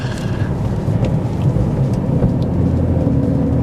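An older BMW E46 M3 driving along small roads, heard as a steady low engine drone and road rumble from inside the car, continuous and fairly loud without any talking.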